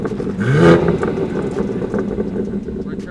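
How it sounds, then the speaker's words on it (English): A car with an open downpipe and no exhaust fitted revs once in a sharp, loud burst, then settles into a rough, deep idle rumble close by. "Rev that shit, Nick."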